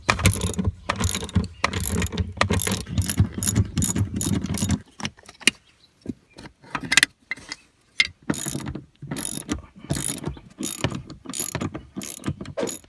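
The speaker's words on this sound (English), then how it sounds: "there are 4 18mm bolts that you got to get out" A ratchet wrench removing the 18mm bolts from a Chevrolet Trailblazer front seat, with rapid clicking bursts, pauses, and renewed ratcheting, loud and close with metallic clanks between runs.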